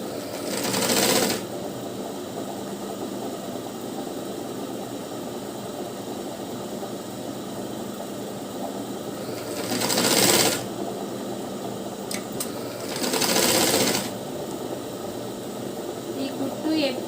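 A sewing machine stitches a lined blouse in short bursts of whirring, three brief runs between stretches of steady background hum.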